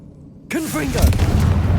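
After a quiet moment, a sudden heavy boom from the Confringo blasting curse in the Hogwarts Legacy video game erupts and rolls on as a loud, sustained rumble while a voice calls out over it.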